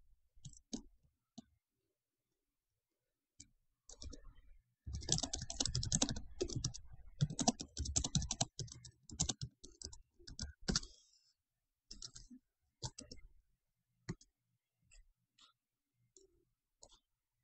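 Computer keyboard typing heard up close, with a dense burst of rapid key clicks in the middle and scattered single taps before and after, in an otherwise quiet room.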